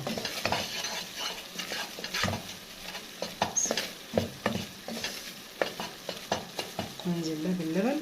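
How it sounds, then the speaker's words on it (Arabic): Flour sautéing in ghee and being stirred in a pan: a steady sizzle under repeated scraping strokes of a spoon, close and moderately loud, with no talking. "التشويحه بتاعت الدقيق دي اللي بنشوحها في السمنه"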